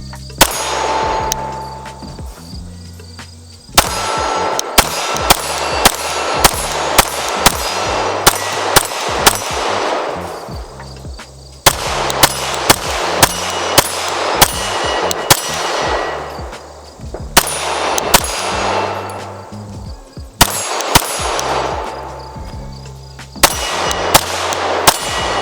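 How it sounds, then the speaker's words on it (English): A Lantac Razorback Glock 17 pistol fires a full 30-round magazine outdoors in loud, sharp shots, sometimes rapid strings and sometimes spaced, with brief pauses between bursts. "let's run another 30 round mag just to make sure that this thing is really gonna run the entire time we're out here"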